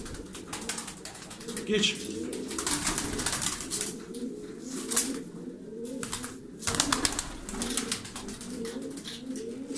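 Tumbler pigeons coo softly and continuously, layered murmuring calls close by with light rustling. Someone talks over them now and then.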